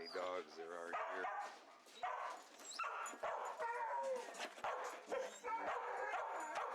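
Several dogs bark, yip and whimper at an animal shelter during daily chores, the bursts coming repeatedly and fairly close, mixed with people talking throughout.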